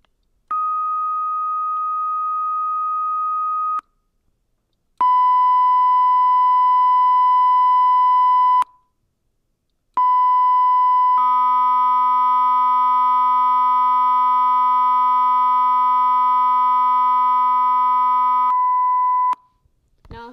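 One pure sine tone sounds, then a second different tone, then both together, which adds a low Tartini difference-tone hum beneath; each held several seconds with short silent gaps.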